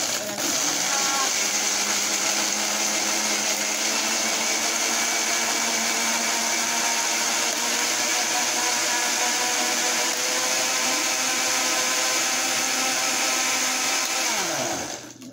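A blender crushes ice for a strawberry and cream smoothie, a loud, steady whirring grind running close and unbroken before spinning down at the end.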